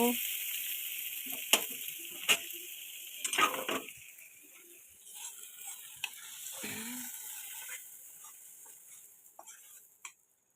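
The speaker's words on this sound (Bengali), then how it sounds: "পেঁয়াজটা ভাজা ভাজা হয়ে গেছে" Onions frying and being stirred in a pan, a steady sizzle with scattered clinks and scraping strokes from the stirring, close and moderately loud, with no voice over it.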